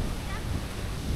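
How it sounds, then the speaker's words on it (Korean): A powerful waterfall on an Irish sea cliff during a storm gives a thick, constant roaring rush, close and loud, blended with wind buffeting the microphone. "이렇게 센 폭포는 처음 본다."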